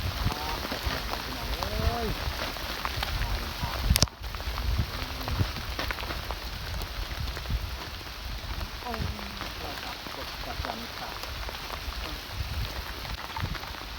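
Steady rain patters down on a rural road in Sekong province, Laos, over a continuous broadband hiss, with a brief dropout midway and faint voices now and then underneath.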